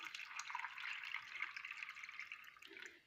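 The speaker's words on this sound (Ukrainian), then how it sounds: "Сочевіці я заливаю водою, щоб водичка покрила її." Water poured from a tap over green lentils in a pot, a steady close splashing and trickling stream that runs for about three seconds before tapering off.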